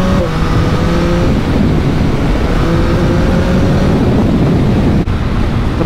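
A 2022 Yamaha MT-09 motorcycle riding in second gear at about 30 mph, its engine a steady loud drone with rising harmonic tones and heavy wind rumble throughout, no talking.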